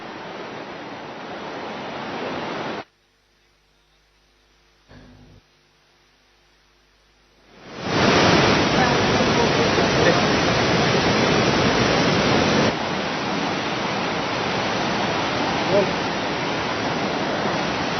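A swollen river at Sonprayag, on the way to Kedarnath, rushes after heavy rains that washed away a bridge. It makes a loud, continuous broadband roar that drops out for a few seconds and then surges back.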